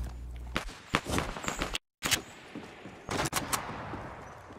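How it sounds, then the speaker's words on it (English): Gunfire aimed at a tree in a Fortnite match: a rapid string of sharp, loud shots in quick bursts, broken by a brief silent gap, then more volleys close up. "Why are you shooting a tree?"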